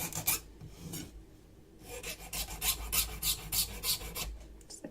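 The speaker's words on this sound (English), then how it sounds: "So I want to file this edge first" A hand file works along the edge of a piece of jewelry in a pearl drop project, close rhythmic rasping strokes, a few at the start, then a quick steady run after a short pause.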